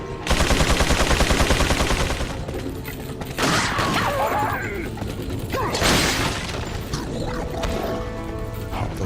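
A chain gun fires in the video game Resident Evil 4 in a dense, rapid mechanical rattle of shots, with bursts of clattering and shattering mixed into a busy game soundscape.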